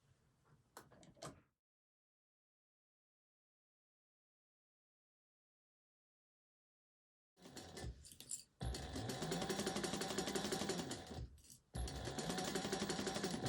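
A sewing machine stitches through fabric in two sustained, steady runs separated by a brief pause, loud and close after a long stretch of silence, with no talking.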